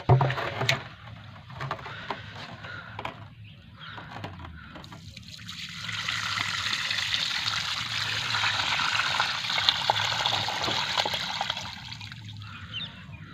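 Irrigation water flows into a cumin field, a steady trickling rush that swells louder in the latter half, with a few faint clicks and no talk.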